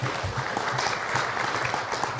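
Applause from a forum audience at the opening of an evening talk-show event, steady moderate clapping from a crowd throughout, with a faint low murmur underneath.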